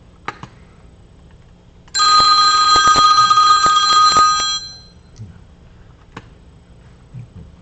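A phone rings with a bright, steady electronic trill for about three seconds, loud and close, surrounded by quiet room noise and a few clicks.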